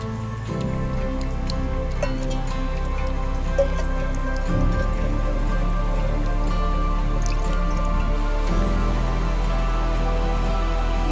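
Rain drips steadily outside a home, with scattered light ticks and patters over a low, constant background hum; no voices are heard.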